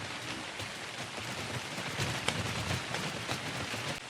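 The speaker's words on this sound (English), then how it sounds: "It's kind of hard to see because of all the rain and the fog" Steady rain in the video game Ark: Survival Ascended on the Ragnarok map, a soft, even hiss with faint scattered droplet ticks running throughout, moderately quiet and without talk.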